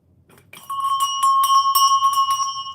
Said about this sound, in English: They hate bells.